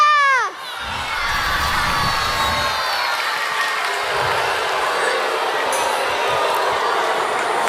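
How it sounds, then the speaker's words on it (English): Adult audience booing Georgia at the Junior Eurovision 2016 contest: a large crowd's sustained roar of booing and shouting fills the hall after a brief musical tone, steady and loud throughout, with voices mixed into the noise. "you also start hearing people boo at Georgia"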